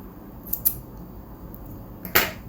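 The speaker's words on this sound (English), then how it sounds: "Then you can just cut the thread" Scissors snip sewing thread by a button in a few crisp, close clicks: two quick cuts early, then one sharper snip near the end, in an otherwise quiet room.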